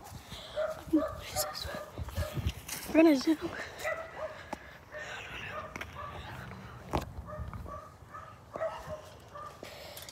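Dogs in a backyard bark and yip in short bursts, with a whimper and a cluster of louder barks in the middle, while a person talks nearby.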